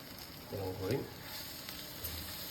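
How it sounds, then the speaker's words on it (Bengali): Lentil fritters frying in hot oil in a home kitchen, a soft steady sizzle throughout with a brief louder burst near the start, faint voices in the background. "এই যে ভাজাভাজি চলছে"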